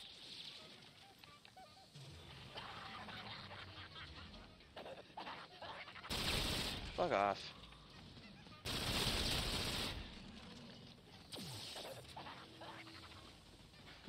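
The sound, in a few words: gunfire from a video game, Zombies in Spaceland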